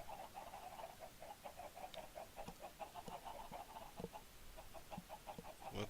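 Chickens on a video game farm, a steady run of faint rhythmic clucking and chirping calls throughout, with no talking.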